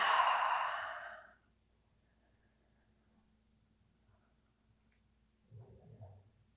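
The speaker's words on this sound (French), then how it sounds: "Et offrez-vous quelques respirations ici." A single deep, breathy exhale during a yoga relaxation, close and soft, fading into near silence, followed a few seconds later by a fainter breath or rustle.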